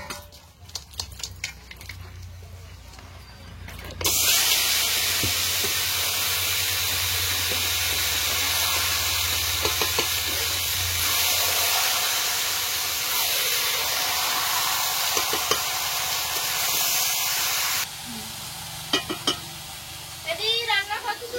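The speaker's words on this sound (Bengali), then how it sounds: "চিকেনটা এসে রান্না করবো, একটু ঝাঁজ করতে" Chicken frying hard in a pan, a loud, steady hiss and sizzle that holds for about fourteen seconds, with pan clatter and a talking voice before and after.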